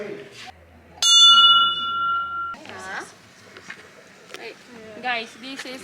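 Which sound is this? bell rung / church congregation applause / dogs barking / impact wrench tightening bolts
bell rung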